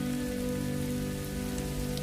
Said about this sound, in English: The iconic downpours wash away the layers of dust built up over the dry season.